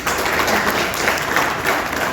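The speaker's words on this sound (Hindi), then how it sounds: "उनके लिए जोरदार तालियां तो बनती हैं" Steady, dense audience applause at an art exhibition gathering, a continuous wash of many hands clapping at moderate level with no talk over it.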